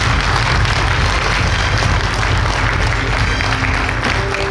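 Loud, full applause from an audience at a university industry-cooperation forum in Gumi, welcoming guests with a thick, continuous roar of clapping throughout.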